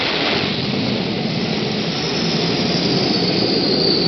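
A 30-tonne F-14 jet launched by catapult from an aircraft carrier, a loud, steady jet-engine roar with a rising whine, sustained without a break for about four seconds.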